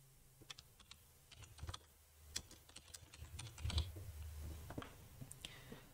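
Quiet typing on a computer keyboard: rapid, irregular key clicks in bursts, close to the microphone, over a low background hum, with no talk.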